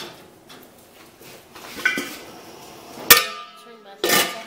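Glass jars of blood orange marmalade are lowered into a boiling water canner, giving a few sharp clinks and knocks of glass against metal, close and clear, with soft rustling between the hits.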